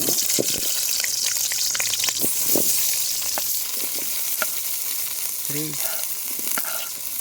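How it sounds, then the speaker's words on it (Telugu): Tomatoes and onions sautéing in oil in a pan, a constant close sizzle with scattered stirring scrapes and small pops, and no talking. "కొద్దిగా నూనె పోసుకొని టమాటోలు, ఎర్రగడ్డలు కొద్దిగా మగ్గించుకుందాం."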